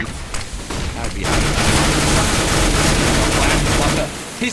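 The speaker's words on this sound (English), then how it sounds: "He's gonna shred him with the P90." A rapid burst of P90 submachine gun fire in the game CS:GO, dense and continuous for about three seconds, preceded and followed by a few scattered shots.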